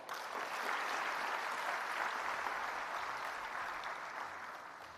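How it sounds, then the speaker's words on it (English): Sustained audience applause fills a formal hall after a speech, a dense, even wash of clapping that holds steady at moderate loudness for several seconds before easing slightly. "Please, another round of applause to a guest of honor"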